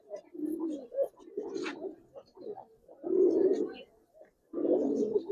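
Giribaz racing pigeons coo in deep, throaty bursts, several rounds of close, moderately loud cooing with short pauses between them.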